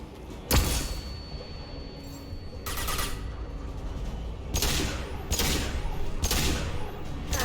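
Flashbang blasts and gunfire fill a Mass Effect 2 firefight, with several sharp bursts of noise over a constant rumble of combat.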